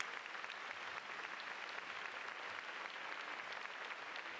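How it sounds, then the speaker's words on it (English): Sustained applause from a school convocation audience of teachers and education supporters, a dense even wash of clapping from a large crowd, steady and fairly distant throughout with no voices on top. "I give you a big round of applause."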